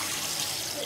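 Cold water pours hard from a bathtub tap on a barge under renovation in Cornwall, a dense, continuous gushing rush with no talk over it.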